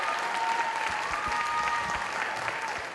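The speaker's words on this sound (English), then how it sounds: "Give Aaliyah Mobley another big round of applause." Steady, dense applause from an audience at a school talent show final, sustained and even for the full stretch without a break.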